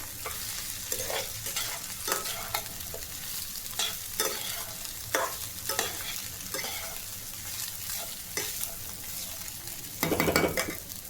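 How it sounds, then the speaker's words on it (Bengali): Soaked flattened rice with turmeric being stirred and mixed in a pan, with repeated scraping and shuffling strokes of the spatula in an uneven rhythm over a continuous gentle sizzle, close and clear. "ভালো করে নাড়িয়ে মিশিয়ে নিই"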